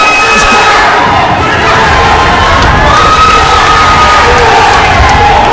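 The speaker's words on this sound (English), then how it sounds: "and the Brockbank crowd goes wild" A crowd roars and shouts wildly at a junior high wrestling match at Brockbank, with loud, continuous cheering and screaming from nearby spectators.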